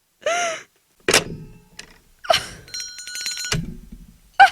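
An old-style telephone bell rings in short bursts separated by pauses, loud and close, with a bright metallic jangle and a few knocks between rings.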